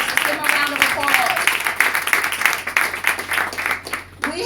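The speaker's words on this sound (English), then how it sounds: "let's give them a round of applause" A crowd applauds and cheers at a campaign headquarters grand opening, clapping rising and falling with scattered whoops, while voices talk over the noise.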